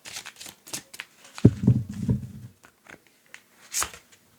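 Tarot cards shuffled by hand at close range, a quick run of riffling flutters and soft slaps with crisp paper snaps, quiet and alone with no speech.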